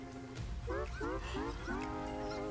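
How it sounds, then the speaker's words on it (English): Fake duck quacks in The Stanley Parable: Ultra Deluxe: four or five nasal, honking quacks in quick succession, loud and close over a low droning game background, with a sustained tone trailing off at the end. "Did I hear that fake duck again?"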